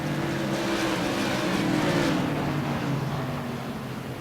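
Tour Modified race cars roar around South Boston Speedway through turns 3 and 4, a dense, loud pack of engines droning steadily with layered tones that swell and then ease slightly as the cars pass.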